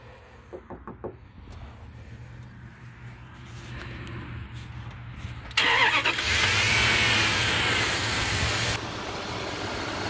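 A 2002 Dodge Dakota pickup engine cranks briefly with a few knocking turns, catches, then settles into a steady, close idle that grows louder and holds without voices.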